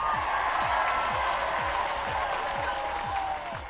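Canned applause sound effect fired from a Clubhouse audio mixer: dense, steady clapping and crowd noise at even loudness, fading slightly at the end, with no voices over it.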